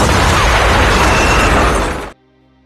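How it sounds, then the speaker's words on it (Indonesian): A loud, dense bomb blast from an action film fills the first two seconds with a sustained roar, then cuts off abruptly into near silence. "Untungnya Cortez berhasil keluar sebelum bom itu meledak."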